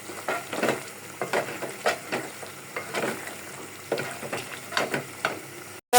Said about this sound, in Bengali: আমি একটু ভাজা দিতেছি।